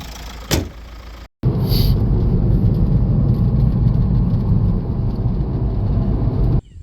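A MK5 VW Jetta TDI diesel, suspected of a worn cam, pulls away on a test drive, its engine and road rumble loud and steady after a door-like thump, with no talking.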